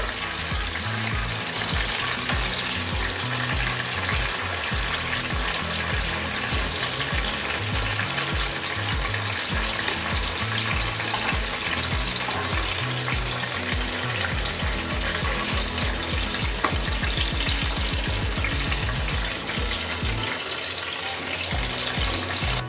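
Eggplant slices frying in hot oil for an hilsa and eggplant dish, a loud, continuous close sizzle and crackle that holds steady throughout with no voices.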